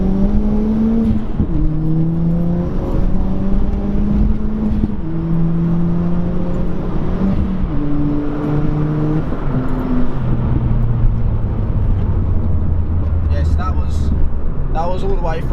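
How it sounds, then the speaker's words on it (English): A car with a newly fitted Vudu short shifter accelerates hard through the gears, its engine note climbing repeatedly, each rise cut by a quick shift, loud and close from inside the cabin before easing off at the end. "I'm just gonna push it through the gears and like see if I notice it"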